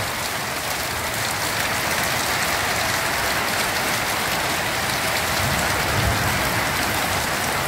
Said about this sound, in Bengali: দেখো কি জোরে বৃষ্টি, শুধু দেখতে থাকো তোমরা।